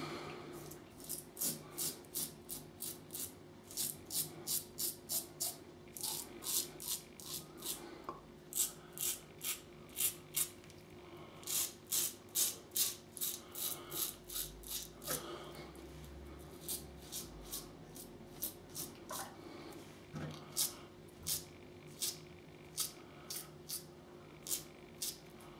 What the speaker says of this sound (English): Feedback on that razor, the sound.